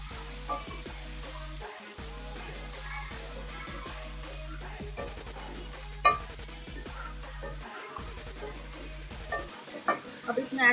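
Spoon stirring chicken with coriander powder and spices in a hot pan, with repeated scraping and clinking strokes over a steady sizzle and a low background hum.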